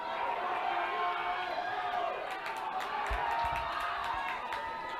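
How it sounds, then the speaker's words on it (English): Fans at a boys high school lacrosse game cheer for the American Fork bench, a steady crowd roar with scattered whoops and some clapping rising midway, under faint commentary. "AF bench here, trying to get their fans to give them a cheer"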